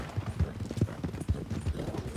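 Horse hooves gallop in a quick, uneven clip-clop rhythm in the video game Red Dead Redemption 2, close and prominent with little else heard.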